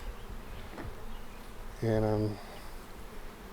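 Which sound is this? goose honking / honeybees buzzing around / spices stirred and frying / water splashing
honeybees buzzing around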